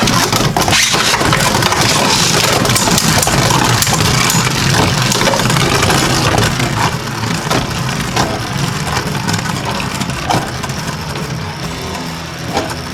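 Beyblade Burst Turbo tops, Kerbeus K4 and Blizzard-X Gaianon, spin and clash in a Slingshock stadium, giving a loud, continuous whirring and scraping roar that softens slightly partway through.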